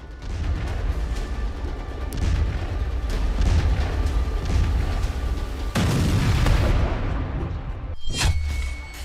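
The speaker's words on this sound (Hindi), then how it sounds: "यह धमाका ब्रह्मोस मिसाइल से हुआ था," A BrahMos missile explosion in the Kirana Hills of Pakistan sounds as a deep, sustained rumbling roar, with sharper blasts bursting out near the end; loud and without speech.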